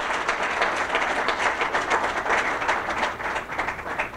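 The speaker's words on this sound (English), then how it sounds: "Mr. Jim Ledford, please give him a big round of applause" Applause for Mr. Jim Ledford at a school campus opening, a large crowd clapping steadily and loudly, dense continuous patter filling the room with no voices over it.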